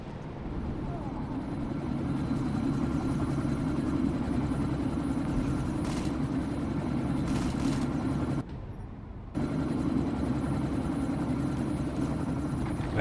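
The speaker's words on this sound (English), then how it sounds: "That chopper's about to take off." A helicopter sits ready to take off in the game Deus Ex: Mankind Divided, its engine and rotors giving a loud steady drone that cuts out briefly and resumes, with voices speaking over it.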